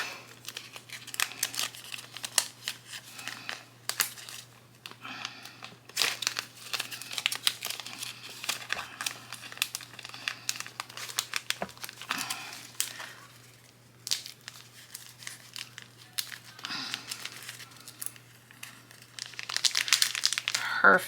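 Paper cash bills crinkle and rustle as they are stuffed into a paper envelope, close up, in repeated bursts of handling and sliding that run the whole time.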